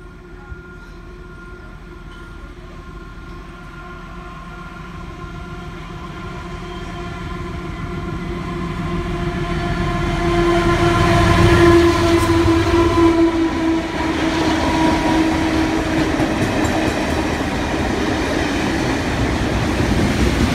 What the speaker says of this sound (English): Here we have GL106 with the Garratt